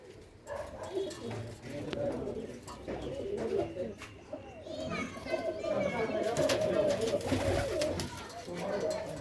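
Pigeons kept in a city coo in soft repeated low calls close by, with voices talking and children's voices mixed in around them.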